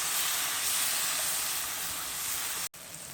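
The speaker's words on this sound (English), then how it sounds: "I'm just going to put the Trinity into it." Trinity of chopped vegetables dropped into a butter and flour roux, a loud steady hissing sizzle close up that cuts off abruptly near the end, then resumes more quietly.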